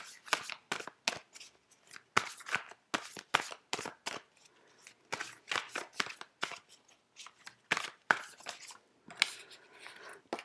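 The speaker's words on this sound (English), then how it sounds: "Cards are falling out all over the place." Tarot cards are shuffled by hand in quick, crisp riffles and slaps, an irregular run of sharp papery bursts close up, with occasional cards spilling out.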